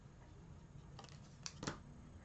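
Scissors snipping through paper during a Stampin' Up! craft project, two or three short quiet cuts close by over a soft room hum.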